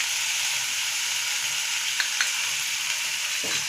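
Turmeric and coriander powder masala roasting over a medium gas flame for a boiled potato and egg dish gives a steady close sizzle, with a few light stirring scrapes near the end.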